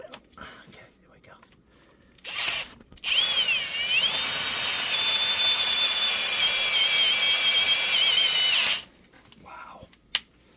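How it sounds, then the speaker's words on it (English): A power drill bores out a broken bolt in a Pontiac engine, whining loudly for about six seconds with a rising then steady pitch, bracketed by short bursts and quiet pauses before and after. "Gotta turn the drill down."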